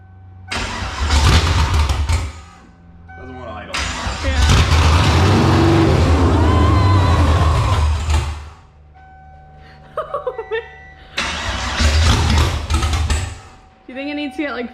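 A freshly built car engine on its first start runs rough and won't settle at idle, surging in loud bursts between quieter stumbling gaps, with excited voices talking over it.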